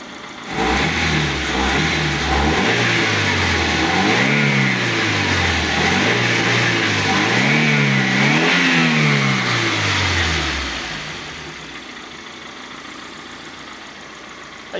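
A gasoline engine fed diesel idles, then revs up and down in repeated rising and falling surges before settling back to a quieter, steady idle near the end, loud and close.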